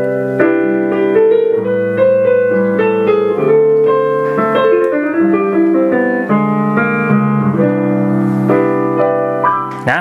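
Rich, full piano chords with layered voicings ring out continuously, sustained harmonies shifting between several voicings at a steady, close, loud level with no talking.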